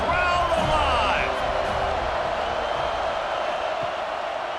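Stadium crowd in the College Football 26 video game, Alabama versus Florida State, roaring steadily through a third-down red zone play, a dense wash of cheering that fades slightly, with a commentator talking over it.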